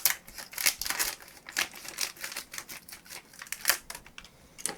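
Crisp snipping and crinkling of plastic packaging close by as a brand-new Hitachi 500 GB hard drive is cut free, a quick irregular run of sharp cuts and rustles.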